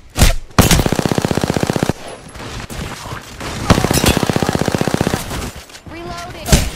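Apex Legends gunfire in rapid automatic bursts, two long rattling strings of shots with single cracks and brief gaps between them, loud and close.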